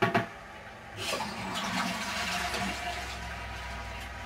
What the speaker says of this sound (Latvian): Viņš piespiedu pogu, tad ūdens tecēja tikai tik ilgi, kamēr poga bija piespiesta.